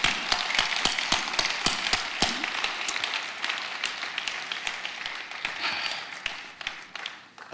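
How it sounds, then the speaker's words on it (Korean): A church congregation claps in a quick, steady rhythm of sharp hand claps, fairly close and loud at first, then thinning and fading toward the end. "우리 하나님께 영광을 돌려 박수합니다"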